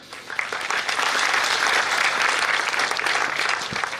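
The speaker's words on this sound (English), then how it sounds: "I request all to give a round of applause" Applause rises quickly from a seminar audience honouring a senior advocate after his lecture, building to a full steady round of clapping that holds to the end.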